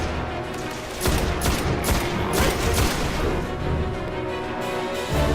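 Semi-automatic rifle gunfire in the shooter video game Destiny, multiplayer on PS4: repeated sharp shots in quick bursts over a dense, loud battle mix with booming impacts, no voices.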